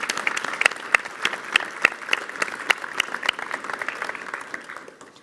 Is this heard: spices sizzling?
no